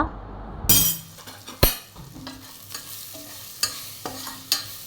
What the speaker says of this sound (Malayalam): ഇനി ഈ മസാല നന്നായൊന്ന് മൂപ്പിച്ചെടുക്കണം